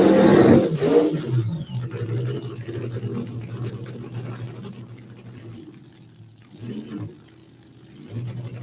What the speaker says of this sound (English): And looks like he is bringing it forward for a short burnout.